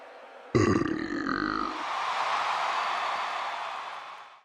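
A single long, loud belch erupts suddenly and drags out for several seconds, deep and croaky, fading away at the end.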